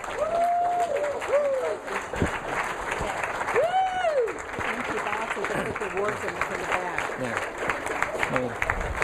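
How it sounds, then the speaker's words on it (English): An audience at a red carpet awards gala stands and applauds fifteen best-selling authors, sustained clapping with crowd noise and voices calling out over it. "please stand to your feet and give a warm applause and congratulations to 15 #1 best-selling authors"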